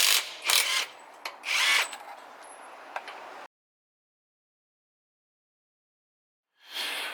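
Tools clatter and a power tool whirs in short bursts while a wheel is removed from a 2007 Toyota Tundra raised on jack stands, with ratcheting clicks; it goes silent midway, then noise returns near the end.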